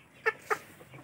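Aseel Parrot breed chickens give two short, close clucks about a quarter second apart, with only quiet background between and after them.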